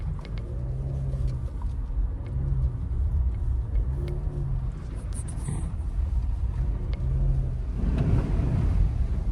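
A 2024 Mazda CX-50 crawls along an off-road trail, its engine a low steady rumble with repeated soft swells as it eases over rough ground, with faint knocks and rattles.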